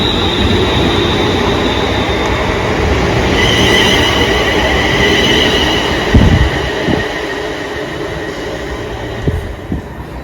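A train pulls into Rugeley Town, a two-platform West Midlands railway station, with a loud continuous rumble and whine, a few sharp clunks and squeals as it slows near the end.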